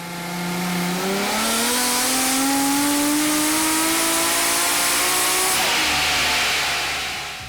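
Nissan RB26 engine in a turbocharged project car on a dyno during a power run, one continuous loud rising rev that climbs steadily for several seconds before dropping off sharply, with no talking.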